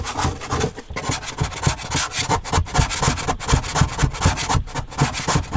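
Steady, close scrubbing and rubbing to remove leftover sticky adhesive residue from tiles with nail varnish remover, a dense rasping texture that runs continuously with short pauses and no talking.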